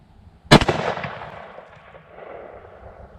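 A single sharp shot from a Smith & Wesson pistol firing a 10mm handload of 13.4 grains of Accurate No. 9 powder behind a Lee 401-175 bullet, with a loud crack followed by a long rolling echo that fades outdoors.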